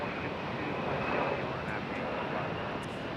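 A US Airways airliner at Raleigh-Durham International Airport gives off a continuous broad engine rumble with a faint tonal whine, steady and moderately loud, with talk present underneath.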